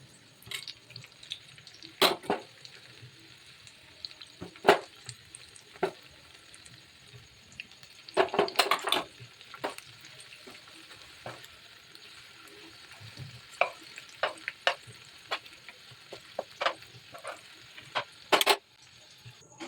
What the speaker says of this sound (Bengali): কর্নফ্লাওয়ারে চুবিয়ে এটাকে ভেজে আমি কিন্তু একদিকে উল্টে দিয়েছি